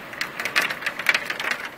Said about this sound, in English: this hail just came out of nowhere nearly